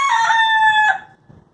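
A rooster crows indoors, one loud, close crow with a strong sustained tone that cuts off abruptly, followed by a brief quieter tail.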